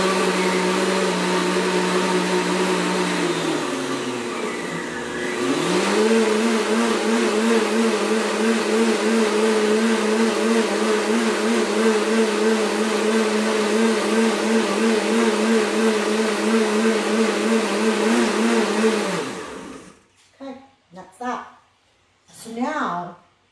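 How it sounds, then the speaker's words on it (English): A BlendTec blender on its batter setting whirs loudly and steadily while mixing crepe batter, dipping briefly then settling into a constant hum for about fifteen seconds before cutting off, after which someone starts talking. "I have a BlendTec blender, and it actually has a setting on it for batter"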